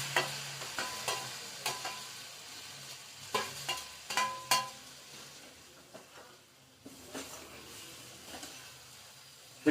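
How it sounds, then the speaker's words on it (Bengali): Boiled tuna fries in spice paste in a pan, giving a soft, quiet sizzle punctuated by sharp spatula clicks and scraping strokes as it is stirred, with no speech. "এটা দেওয়ার পর মশলার মধ্যে ভালো করে সাঁতলে নেব,"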